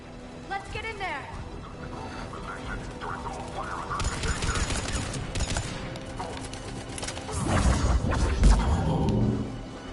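Combat gunfire in Mass Effect Legendary Edition: bursts of rapid automatic shots and crackling fire build over several seconds, loudest toward the end, with voices talking over the fighting.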